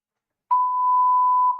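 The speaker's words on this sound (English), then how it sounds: "my fire alarm is going off" A home fire alarm sounds a single steady electronic beep, loud and close, holding one sharp tone for over a second after a moment of silence, with no voices over it.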